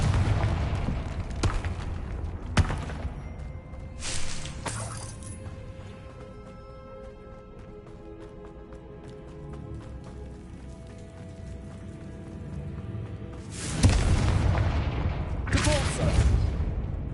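Confringo blasting spell explosions in Hogwarts Legacy on PS5, several loud booming bursts with crackling debris, a pair early, then a quieter rumbling stretch before heavier blasts near the end.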